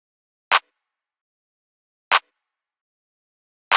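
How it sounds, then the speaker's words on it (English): A dry clap sample from a dark orchestral beat sounds three times alone, evenly spaced about a second and a half apart, each hit short, sharp and crisp against silence. "Next thing we got is the clap."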